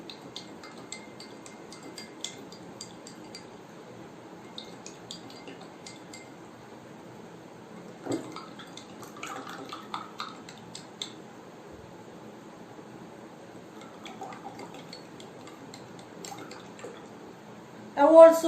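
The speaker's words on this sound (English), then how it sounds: "Again add a few more amount of salt to this water and stir it well." Spoon clinking and scraping against a glass while stirring salt into water, with faint intermittent light taps and a louder clink near the end.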